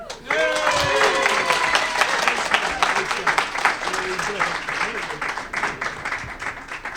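Steady applause from a crowd at a debate fills the room, with voices and cheers audible at the start before the clapping continues evenly.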